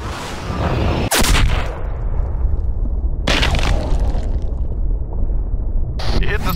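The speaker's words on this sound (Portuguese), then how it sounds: "Belo tiro. Ótimo tiro." Rifle shots in the hunting video game Cabela's Big Game Hunter, sharp loud blasts with rumbling tails, three in a row, over a steady outdoor ambience while someone talks.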